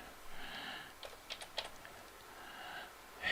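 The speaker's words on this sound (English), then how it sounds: "I will type something along the lines of paste" Fingers tap quickly at a computer keyboard, with short bursts of crisp, faint keystroke clicks that come in an uneven rhythm against a quiet background.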